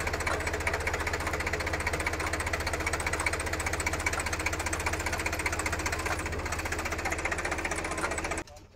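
A Sonalika Tiger 50 tractor engine runs steadily at low speed in creeper gear during onion transplanting, a continuous loud rhythmic chugging and knocking that stops abruptly near the end.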